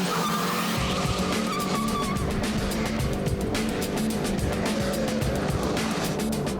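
A Suzuki Swift hot hatch is driven hard through bends on hilly roads, its engine revving loud and close while tyres squeal and skid through the corners, with a brief word spoken over it.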